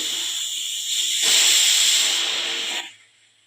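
Steam hisses from a pot steaming sweet jilledu kayalu dumplings: a steady hiss that swells louder midway, then cuts off abruptly, heard alone without speech.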